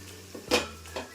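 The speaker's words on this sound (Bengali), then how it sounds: "এবার আমি ঢাকাটা খুলে নিচ্ছি।" A lid comes off a cooking pot of spiced chicken masala being sautéed: a single close metallic clank with a brief rattle, followed by a lighter clink, over a low steady background hum.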